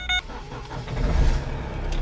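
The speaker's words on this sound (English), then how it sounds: "now that I've started the car" A manual car's engine starts with the driver's foot on the brake: a short dashboard beep, then a low rumble that swells as the engine catches and settles into a steady idle, close by and with no talking.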